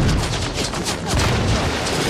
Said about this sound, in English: the gunfire coming out of the smoke of the destruction